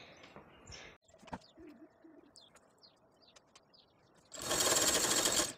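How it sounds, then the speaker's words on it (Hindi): A sewing machine stitches a cut salwar suit in a rural Uttarakhand home, a loud steady whirring burst near the end, preceded by birds cooing and chirping in the background. "तो शुरू कर दिया मैंने कपड़ों को सिलना"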